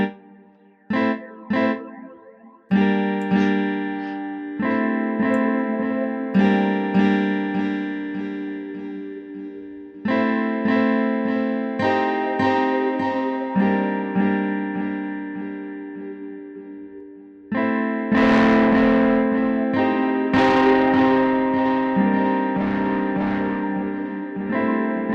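SynthMaster 3 Player on iPad plays a sequence of bright, sustained synth notes and short stabs with a delay effect, repeats trailing off after each phrase, alone with no voice.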